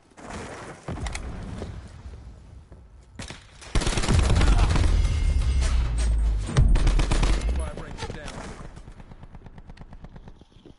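Heavy gunfire in a PS4 video game, from a quick burst to sustained loud machine-gun fusillades that swell in the middle and fade at the end, with a voice talking briefly over it.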